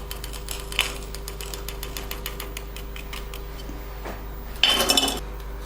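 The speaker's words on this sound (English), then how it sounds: "Now I am fitting the lid onto the box." A handcrafted silver lid is fitted onto a soldered silver box, giving light metallic ticks and scrapes throughout, then a brighter burst of clinking metal contact near the end.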